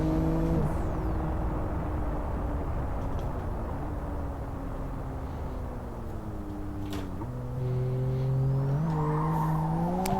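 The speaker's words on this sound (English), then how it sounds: "as you can see there, it broke traction and I was able to start drift" Live for Speed racing game car drifting through a corner after a clutch kick breaks rear tyre traction: a loud, steady engine drone with shifting pitch, broken by brief tyre-squeal and gear-change dips, no voices.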